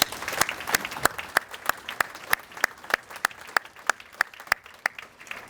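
Applause for scout leaders at a mayor's breakfast event, with sharp, regularly spaced claps standing out over a softer background of crowd clapping.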